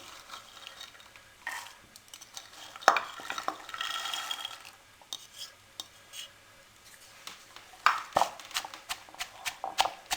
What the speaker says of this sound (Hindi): सब्ज़ चनों को कुंडी में मैंने अच्छे तरीके से पीस लिया है